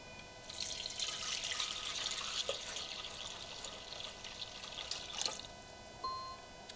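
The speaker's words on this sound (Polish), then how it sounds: "Z soku, który tutaj mam, 780 gramów, wlewam do pojemnika miksującego" Apple juice, about 780 grams, pours steadily into a mixing container, a continuous bright liquid splash running for several seconds with small gurgles and a brief clink near the end.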